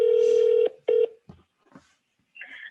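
A phone keypad sounds a long steady dial tone, then two short DTMF beeps, followed by faint clicks and a brief ringback-like tone as a call to a property manager is placed.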